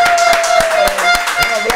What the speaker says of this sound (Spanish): Un aplauso por el chisme.